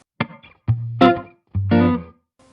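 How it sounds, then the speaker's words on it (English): Electric guitar through a NUX amp modeler's Vibro King scene with room reverb, a few picked notes and short chords ringing out with a brief, roomy tail, alone without talk. "Bit more of a room reverb here"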